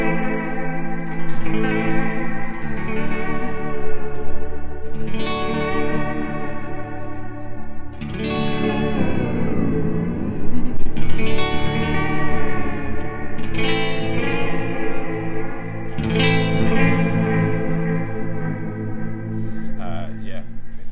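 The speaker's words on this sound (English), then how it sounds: "You can make it really, really wobbly, as if you've got like a completely messed messed up tape machine." A wobbly, warped tape-machine-style modulation effect smears sustained chords with pitch drift and echo. The sound is continuous and dense, with a voice speaking over parts of it.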